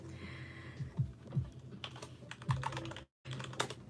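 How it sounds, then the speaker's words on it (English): Rapid clicking keystrokes on a computer keyboard, close and moderately loud, in an irregular typing rhythm with a brief pause near the end, no voices. "Here, I'll type it out for you."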